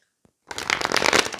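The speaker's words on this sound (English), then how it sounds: "going to shuffle more on camera." A deck of tarot cards being shuffled by hand: a single soft tap, then a dense, steady riffling and rustling of cards for about a second, close and fairly loud.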